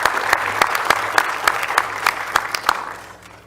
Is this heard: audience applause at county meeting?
yes